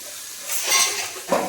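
Onions frying in a pan until golden, a soft sizzle with stirring that swells midway and again near the end, close and without voices.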